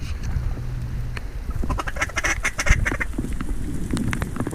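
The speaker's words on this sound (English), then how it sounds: "Wood duck's coming around." Wood ducks calling while flying over flooded corn during a duck hunt, a steady stream of faint-to-moderate squeals and quacks amid outdoor background noise, with a few sharper calls mixed in.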